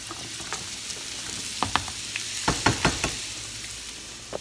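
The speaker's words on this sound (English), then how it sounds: "we're just gonna stir fry this around until it starts getting caramelized and the potatoes are gonna cook at the same time" Onions and sweet potatoes stir-frying in a pan for a vegetarian Mexican breakfast hash: a steady close sizzle broken by several sharp clacks of a utensil against the pan.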